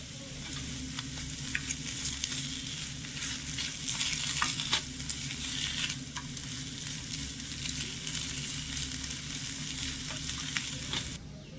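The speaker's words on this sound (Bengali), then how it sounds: "এখানে এক থেকে দুই মিনিটের মতন নেড়ে ছেড়ে খুব সুন্দরভাবে আলুর পুরটা একটু ভাজা ভাজা করে নিয়েছি" Spiced potato filling with salt and sugar sizzles in a pan while a spoon stirs and scrapes it repeatedly, a steady close frying hiss punctuated by irregular clinks and scrapes, with no talking.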